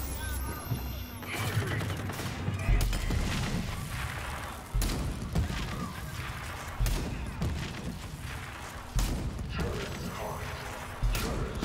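Heavy gunfire and explosions in the video game Rage 2 as a single shot wrecks the player's car. Loud repeated blasts and booms continue throughout, with someone talking over them.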